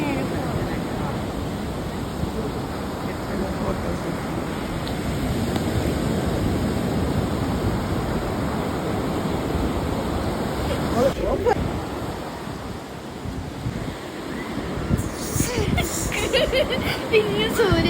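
Ocean waves wash steadily onto Mannarankunnu beach in a continuous broadband roar, loud and close, with wind buffeting the microphone and no clear breaks between surges.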